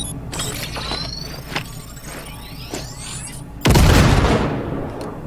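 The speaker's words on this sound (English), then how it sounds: "Now, detonate the grenade." Grenade detonation in Cyberpunk 2077: after a few seconds of whirring mechanical game ambience, a sudden loud, heavy blast erupts and decays into a lingering rumble.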